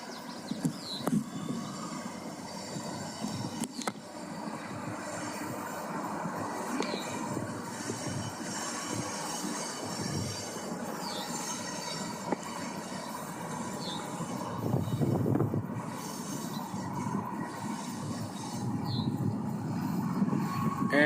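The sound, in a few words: NIPSCO freight train passing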